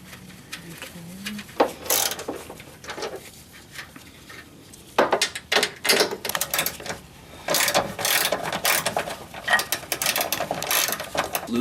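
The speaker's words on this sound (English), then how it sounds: "So now we're removing the little bolts. That are in here. They go into the edge of the body." Ratchet clicks come in short bursts while small body bolts are backed out along the edge of a Jeep Wrangler Unlimited body, close and fairly quiet, with pauses between runs of rapid clicking.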